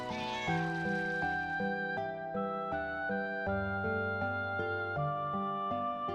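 A cat meows in the Final Fantasy IX video game, a short meow at the start, then a plucked, tonal melody of game music runs steadily underneath.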